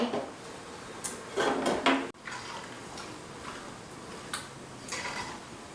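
Shrimp noodles for a sweet and sour dish transferred into a serving dish, giving a few soft clinks, scrapes and light utensil taps at close range, scattered and unhurried with brief louder bursts.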